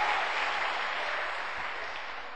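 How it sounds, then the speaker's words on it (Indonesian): Audience applause fills a seminar hall on love, sex and dating, a dense steady wash of clapping from many hands that starts loud and tapers slightly over a couple of seconds, with no talk over it. "Luar biasa, tepuk tangan, ayo, luar biasa."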